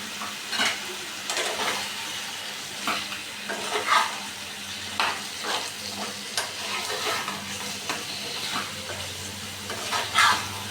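Fried chicken pieces go into a pan of cooked-down masala and sizzle steadily while a spoon scrapes and stirs in repeated strokes, close up, with a faint background hum and no talking.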